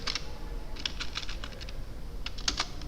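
Someone types a short word on a computer keyboard, giving a few close clusters of light plastic key clicks with pauses between them over a faint steady hum. No one speaks.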